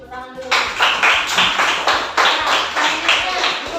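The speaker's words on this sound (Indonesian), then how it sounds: "tepuk tangan dulu" A classroom group claps hands together in a brisk, fairly loud burst, with rhythmic pulses of applause starting after a brief pause and continuing steadily to the end, with a few voices mixed in.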